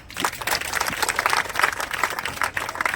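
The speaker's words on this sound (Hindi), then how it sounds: "सभी लोगों के लिए एक बार ताली।" A group gathered at a weekly honours ceremony on a riverside ghat in Sonpur gives a brief burst of clapping after a correct quiz answer, uneven and lively, lasting about three seconds.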